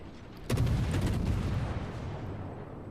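A broadside of heavy naval gunfire from the Z52, a Tier 10 German destroyer in World of Warships, hits as a sudden loud boom, then rumbles and decays over a steady battle-noise bed with no talk.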